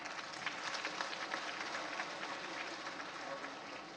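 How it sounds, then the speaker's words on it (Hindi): A large crowd applauds at a women's self-help group gathering in Jaisalmer, Rajasthan, honouring a rural-born brand ambassador. Dense, steady clapping fills the whole stretch at an even level, with no voices over it. "उनके लिए एक बड़ा ताली तो हो जाए"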